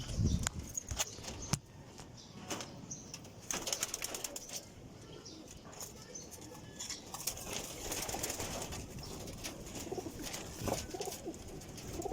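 Pigeons coo softly up close, with rustling, bursts of wing flapping and shuffling movement in the background.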